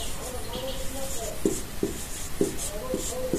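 Writing on a board in a Class 10 maths lesson, several crisp short tapping strokes spaced across the stretch, close, with a voice talking over them throughout.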